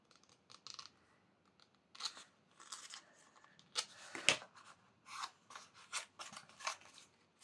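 Scissors trim paper for a small handmade notebook in a series of quiet, close snips and crisp cutting strokes, separated by short pauses and light rustling.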